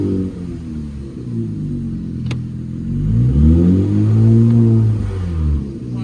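A Nissan Z with upgraded turbos idling low, then revving up at full throttle: a loud, close engine whose pitch climbs and holds before easing off, with a brief click early on.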